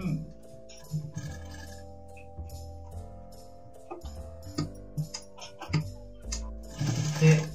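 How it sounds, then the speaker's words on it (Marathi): A sewing machine stitches a blouse, its needle clattering in steady bursts with short pauses between runs, close and fairly quiet, with faint talk at moments. "आता पूर्ण हे शिलाई करून घ्यायचं."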